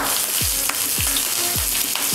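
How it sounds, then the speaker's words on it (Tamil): Small cut pieces of pirandai (adamant creeper) fry in hot oil, with a loud continuous sizzle and bubbling, and a few stirring scrapes recur about every half second. No voices. "அதை இதில் போட்டு வதக்கணுங்க"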